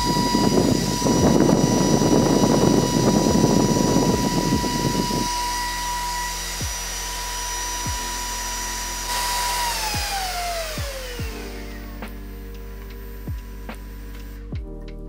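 A Nitecore CW10 portable photography fan running at max speed, around 11,000 rpm, gives a loud steady whine over an airy rush, then its pitch slides down as it winds down, with scattered clicks near the end.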